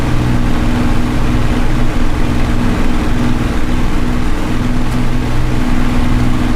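Supermarine Spitfire L.F. Mk IXc piston engine in Microsoft Flight Simulator, a loud steady low drone with strong harmonic hum that holds unchanged throughout, no voices.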